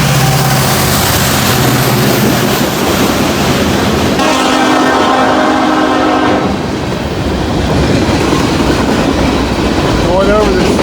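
A CSX northbound train passes on the Rathole line near a bridge, its steady loud rumble and wheel clatter running throughout, with a sustained horn blast sounding midway.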